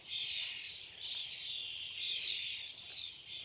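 Birds chirp and trill in a dense, continuous chorus at moderate distance, a steady outdoor twitter with no voices.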